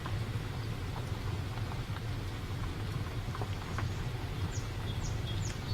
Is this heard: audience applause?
no